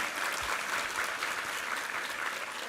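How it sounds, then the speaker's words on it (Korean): A church congregation applauds during a sermon service, a continuous, even wash of clapping from many hands at moderate distance, with no voices heard above it. "우리 하나님께 감사와 영광의 박수 올려드리겠습니다."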